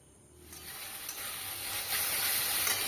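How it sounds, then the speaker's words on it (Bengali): A paste of ground cumin, coriander and turmeric mixed with water hits a hot pan while cooking rajma, starting quietly and building into a steady, close sizzling hiss that holds to the end with no voices. "জিরের গুঁড়ো ধনের গুঁড়ো আর হলুদ এটা একটু জল দিয়ে গুলে দিয়ে দিচ্ছি"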